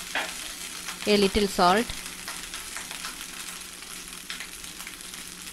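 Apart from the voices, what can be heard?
stirring pepper rice with roasted cashews in a hot pan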